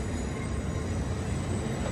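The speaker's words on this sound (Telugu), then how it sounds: "ప్లాట్ఫామ్ నెంబర్ 3కి అయితే వచ్చింది బండి." A steady low rumble of a train rolling slowly into a station platform, with faint metallic squeal above, continuous and fairly close, no voices.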